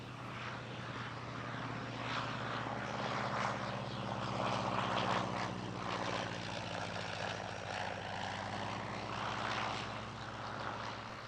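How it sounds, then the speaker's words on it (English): A Caudron 270 biplane from the 1930s flies past at an air show at La Ferté-Alais, its propeller engine droning steadily and loudly throughout with no talk. "The Caudron 270 was a biplane of the 1930s"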